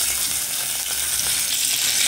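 Oil sizzling hot in a cooking pot with boiled meat, a steady bright crackling hiss that stays loud and even with no breaks.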